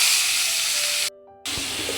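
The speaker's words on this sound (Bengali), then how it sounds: "তেলটা গরম হয়ে গেছে, তো ইলিশ মাছটা দিব।" Hilsa fish hisses and sizzles in hot oil in a home kitchen, a loud, steady broadband frying hiss that drops out briefly and then resumes just as strongly.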